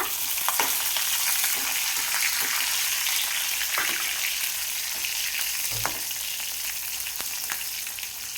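Sliced green chillies crackle and sizzle loudly in hot oil with browning garlic for a Marathi dal tadka, a steady bright frying hiss with occasional pops and spatters, no voices.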